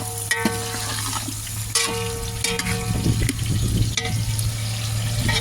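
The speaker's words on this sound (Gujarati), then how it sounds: "બ્રાઉન થાય ત્યાં સુધી આપણે તેલમાં એનું ફ્રાય કરીશું. તેલ પણ સોયાબીન જ વાપરીએ છીએ આપણે." Whole onions frying in soybean oil in a pan, a steady loud sizzle with occasional stirring clatter and bubbling surges, no voices.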